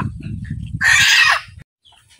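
A large deshi hen lets out a brief, loud squawking cluck close by, preceded by a low, murmuring background and followed by a short silence.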